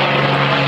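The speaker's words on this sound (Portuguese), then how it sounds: "Passando um avião aqui a menos de 50 metros de altura." Crop-dusting propeller airplane flying low, under 50 metres, over the drone operating area in Cajati, giving a steady loud engine and propeller drone that fills the whole short stretch with no talk.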